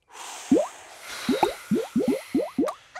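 Eight short, bright bubbling plops in an uneven series as a soap bubble forms in a Peppa Pig cartoon, each pop rising quickly in pitch, fairly close and clear over a soft hiss, with no talking.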